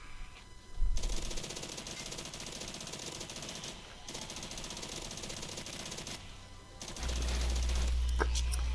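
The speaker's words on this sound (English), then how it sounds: "All I'm doing is just showing each gun how it works, what kind of damage it does" Rapid automatic gunfire from guns in the Roblox Zombie Uprising game, dense bursts with brief pauses, ending in a heavier deep rumble, loud and close with no talking.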